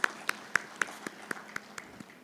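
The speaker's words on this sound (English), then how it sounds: "Let's extend a round of applause as we acknowledge her presence in our midst." A few slow, evenly spaced claps ring out one by one in a quiet conference hall during an inauguration ceremony, about nine sharp hits spread across a couple of seconds.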